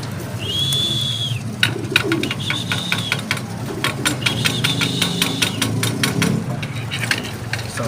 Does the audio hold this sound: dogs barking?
no